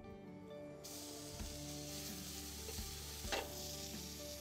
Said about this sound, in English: Butter is melted. Okay. We'll add in some onions.